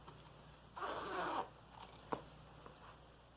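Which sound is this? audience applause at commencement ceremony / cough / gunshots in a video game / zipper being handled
zipper being handled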